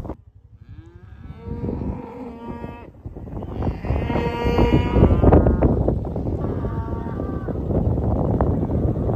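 Farm livestock call out loudly and continuously near a paddock, with deep moo-like lowing and bleats from ewes and cattle overlapping in a sustained chorus, no speech.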